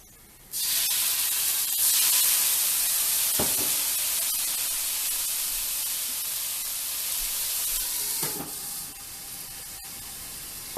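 A loud, steady hiss of steam rushes from a hot frying pan of potato pancakes after water is added, holding for several seconds with faint crackles before easing off.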